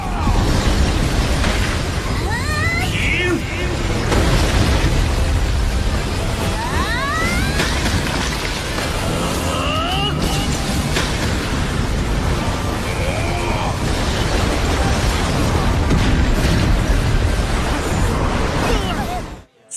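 A dense, roaring wall of blast and rumble from an ice explosion technique in a Soul Land 2 animated fight scene, sustained and loud, with whooshing sweeps and faint voices mixed in.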